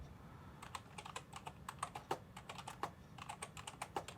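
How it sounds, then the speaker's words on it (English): A song title being typed on a computer keyboard, a quick irregular patter of close, quiet key clicks lasting a few seconds with brief pauses between bursts, no voices. "I'm going to just type it in again and show you how it comes up."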